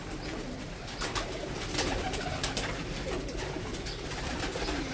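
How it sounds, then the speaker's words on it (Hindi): Pet pigeons with green and black pearl-spotted plumage coo softly among steady background noise. "मोतियों वाले और सब्ज और काले मोतियों वाले कबूतर हैं।"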